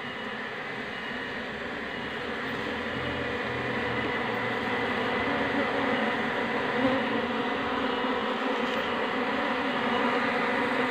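Honey bees buzz as a steady, dense hum from a small colony being harvested in a garden, continuous and close throughout with no voices.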